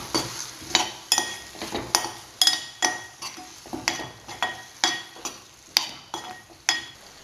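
Spices being stirred into mango pulissery, a Kerala yogurt-and-ripe-mango curry, in a cooking pot; a spoon scrapes and clinks against the metal in a steady series of close, rhythmic strokes, with no voices.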